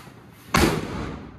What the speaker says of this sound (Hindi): हो चुका धमाका